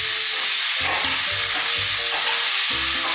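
Yellow bell peppers are stirred with tongs in a hot pan, giving a loud constant sizzle with repeated scraping and stirring strokes, close up and without talk.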